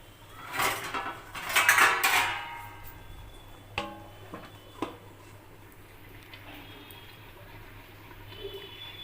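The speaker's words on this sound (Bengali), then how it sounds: "তো আমি এবারে এটাকে ঢেকে দিলাম" Lid set over a pot of mutton cooking with pumpkin, giving a few metallic clanks and scrapes of pot and lid near the start, then a couple of sharp taps and a quiet kitchen hum.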